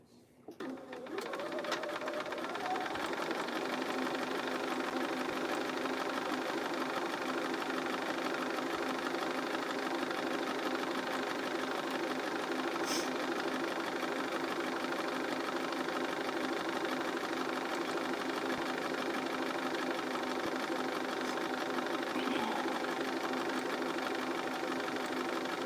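A sewing machine runs steadily, sewing a quarter-inch straight seam. The motor keeps an even, continuous whir from start to finish and stays loud and close.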